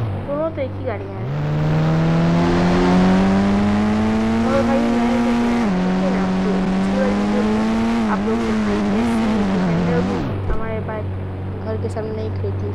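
A car in the video game Indian Bike Driving 3D drives and revs, its loud engine note rising steadily, dipping and climbing again before cutting off abruptly, with someone talking over it.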